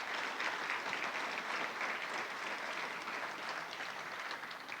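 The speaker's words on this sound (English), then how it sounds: "So let's give a round of applause for that." Sustained applause from an audience at a spring commencement salute to agricultural and natural resources graduates, steady clapping filling the room at an even level throughout with no voices over it.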